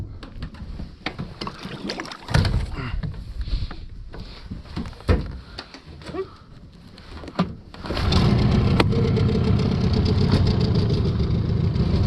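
Outboard motor on a boat running through shallow, rocky river water at the close of the navigation season, close and loud, with uneven engine noise and knocks that settle into a steady, louder drone in the final seconds.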